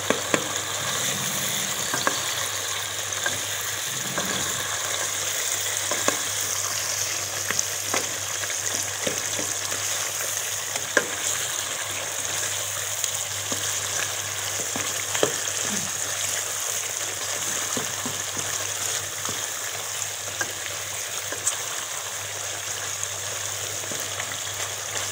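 Charsi karahi, a Peshawar-style dish seasoned with black pepper and salt, fries in a wok with a continuous dense sizzle and occasional faint stirring clicks throughout, no talking.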